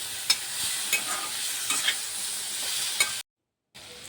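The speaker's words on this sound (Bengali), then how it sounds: "টমেটোটা সফট হওয়া পর্যন্ত কুক করতে থাকবো।" Ginger, garlic and chopped tomato fry and are stirred in a pan for a chicken bhuna masala: a steady close sizzle with scraping stirs. The sound cuts out briefly near the end, then returns.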